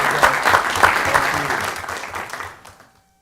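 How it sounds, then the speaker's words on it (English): Council meeting audience applauding, a burst of many hands clapping that stays fairly strong, then fades out to near silence by about three seconds. "All right, let's give them a round of applause."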